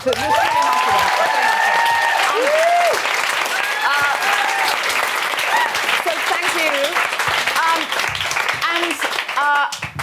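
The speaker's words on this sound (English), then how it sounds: "So just a big round of applause for this." Audience applause fills a live podcast recording, a dense, steady wash of clapping held at full loudness for about ten seconds, with a few whoops and voices poking through near the end.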